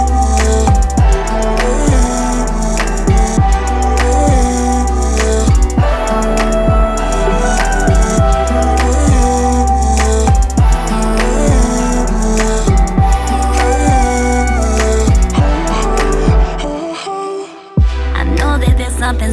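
A full music mix in mono plays loud and dense, with steady punchy drum hits driving a layered arrangement, briefly dropping out near the end before returning, with no voices over it.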